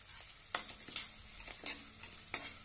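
Slit green chillies sautéed in oil, a quiet sizzle broken by four sharp spatula scrapes against the pan, close and without talking.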